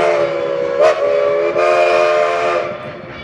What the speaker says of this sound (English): How neat was that with the trains going past?